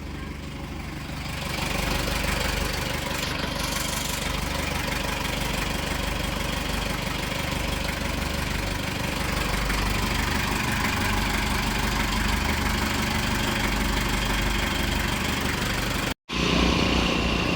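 A fishing boat engine idles with a steady, continuous low rumble and clatter that fills the whole stretch, close by, with only a brief drop near the end.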